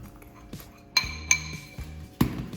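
An egg with sugar and vanilla sugar is stirred in a bowl, making a few sharp, separate clinks of a utensil against the bowl over soft background noise.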